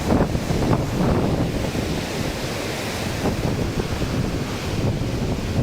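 Floodwater surges at Prakasam Barrage in Vijayawada, a constant loud roar of rushing water mixed with gusts of wind buffeting the microphone.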